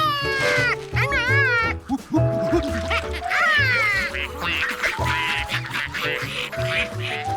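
Cartoon ducks quack repeatedly in a lively animated scene, the calls rising over a steady music bed with no talking.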